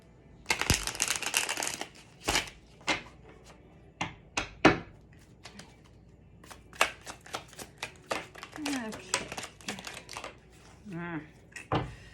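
A Heaven and Earth Tarot deck being shuffled by hand: repeated crisp riffling bursts and soft card slaps come in uneven clusters, fairly close, with a few brief spoken words between them.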